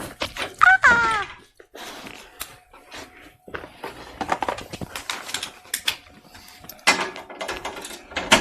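Clicking and ratcheting mechanical noises from tightening parts of a home elliptical exercise machine, a series of irregular close clatters and taps with short pauses, fairly loud and alone.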